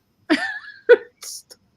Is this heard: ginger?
no